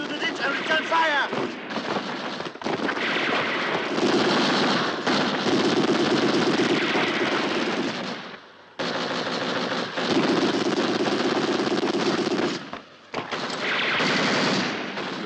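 Sustained machine-gun and rifle fire in a war film battle scene, loud and dense in long bursts with brief gaps, with shouted voices mixed in.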